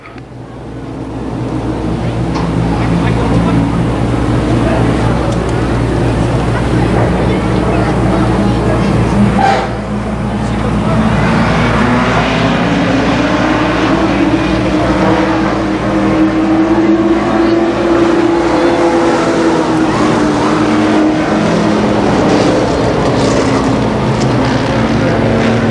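Limited sportsman race cars roar through a heat at a speedway, a loud sustained engine drone that swells and shifts in pitch as the field circles the track.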